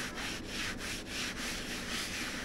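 Steady rhythmic rubbing and scraping as rust converter is wiped off the floor of a CAT 315 excavator cab, a continuous close-up swishing with repeated strokes.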